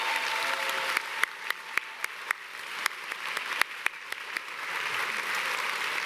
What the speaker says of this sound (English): So can you please give a huge round of applause for all of the people.